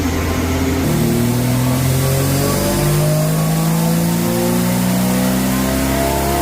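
A Valiant 245 Hemi running a 2bbl Holley with Pacemaker pipes and 3-inch exhaust revs hard on a dyno, loud and close, climbing steadily through the gears in a rising roar.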